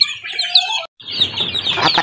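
A brood of chicks peeps shrilly and continuously up close, with a hen's low clucking and scratchy rustling beneath, interrupted by a brief silent gap before the peeping resumes.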